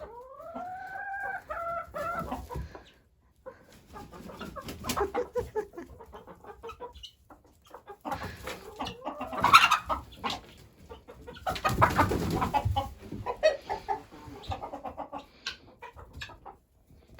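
Red hens on a homestead cluck and squawk in uneven bursts, with a drawn-out call at the start, some gaps of quiet, and a louder flurry of agitated vocalizing near the middle.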